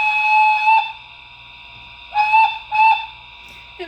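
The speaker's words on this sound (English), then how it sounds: "F2 is a short whistle." An LGB Stainz model locomotive fitted with a Zimo sound decoder sounds a short, tonal, chime-like steam whistle. It starts at the beginning, then repeats twice more in brief blasts over a faint background hum.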